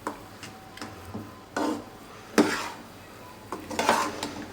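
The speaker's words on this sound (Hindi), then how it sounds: "अब हमने इसमें मुसलसल चम्मच हिलाते रहना है और इसको थोड़ा सा ड्राई कर लेना है" A metal spoon scraping and knocking against a pan while semolina halwa is stirred continuously over a medium flame, giving intermittent close clinks and scrapes with no talking.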